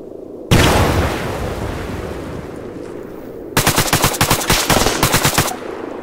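Arma 3 gunfire from a SPAR-17 rifle: a loud shot opens into a sustained burst of rolling fire, then after a pause a rapid string of sharp automatic shots crackles close by, with no talk.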